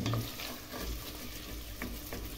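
Ground beef fries in oil with onion for a meat pie filling, a steady close sizzle with occasional stirring scrapes and no voices.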